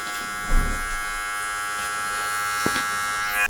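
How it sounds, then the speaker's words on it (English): A hair trimmer hums steadily at close range during a skin fade on Afro hair, with a faint thump near the start and a brief click later, and no talking. "Now I'm going to use my trimmer and my detailer and just remove this here underneath now, just to take it right down to the skin"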